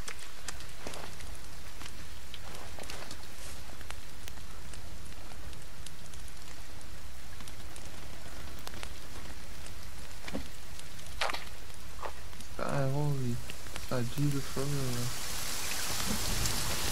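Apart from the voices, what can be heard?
rain pouring in the video game The Forest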